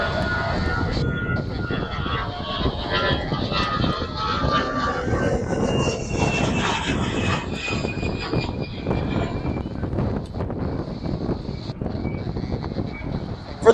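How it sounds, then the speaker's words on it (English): Delta Airbus A319 jet engines roar steadily as the airliner departs at night, a broad continuous rumble with a faint high whine, heard from a distance without a clear rise or fade. "it is an Airbus from the engines"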